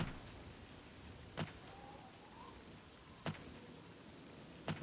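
Rain falls steadily in the video game Oblivion, a soft constant hiss, punctuated by three sharp, brief clicks spaced a couple of seconds apart.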